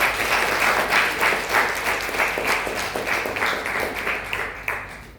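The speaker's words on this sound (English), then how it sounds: "Please give them a big round of applause." Loud, sustained applause from a conference audience honoring students' APEC Youth STEM Conference awards, dense steady clapping that swells and slowly tapers toward the end, with no voices over it.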